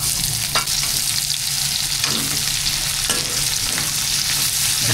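Browned pork with garlic and onion sizzles loudly and steadily in a hot pan, a dense close frying hiss broken by a few sharp stirring scrapes, no voices.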